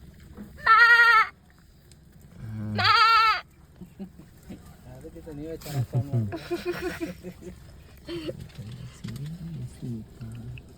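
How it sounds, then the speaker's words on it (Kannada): Goats and lambs near a village house give two loud, wavering bleats close by, and people's voices follow. "ಮೇಕೆ ಕುರಿಮರಿ"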